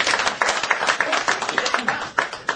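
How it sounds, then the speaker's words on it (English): A small audience at a performance and lecture claps in a short burst, with distinct, uneven hand claps rising and falling and no voices on top. "Give him a round of applause."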